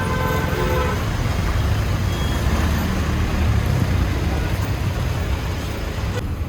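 Heavy Mumbai street traffic with trucks, a dense, continuous roar of engines and road noise with scattered horn toots and beeps, close and busy throughout.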